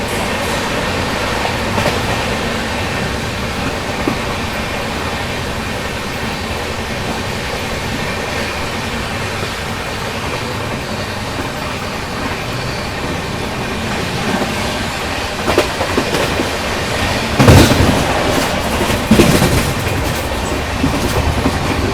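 The Pune–Hyderabad Shatabdi Express rolls through Chittapur railway station without stopping, heard from inside as a loud, steady rumble of wheels and clattering rail joints, with a brief burst of sharper clanks near the end.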